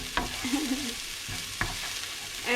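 Garlic and onion stir-frying in a pan, a dense close sizzle punctuated by sharp scrapes and knocks of a spatula stirring, louder bursts coming at irregular moments.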